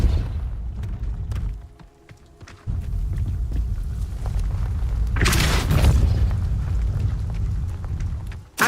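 A Depulso spell blast in Hogwarts Legacy, heard as a heavy boom with rumbling thuds, a brief lull, then a loud burst near the middle and low rumble carrying on after.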